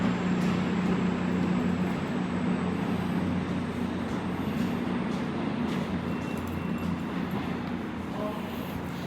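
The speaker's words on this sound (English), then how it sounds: "Approaching in now is Great Western Railway's 1 Alpha 96 service to London Paddington from Penzance." A Great Western Railway train rolls steadily into a Devon station platform with a low rumble and hum, fairly loud and continuous throughout.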